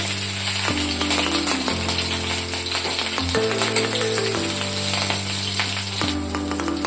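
Whole cumin, chopped garlic, ginger and green chili frying in hot oil for a potol dolma, a loud crackling sizzle with scattered pops, stirring and a low droning hum underneath.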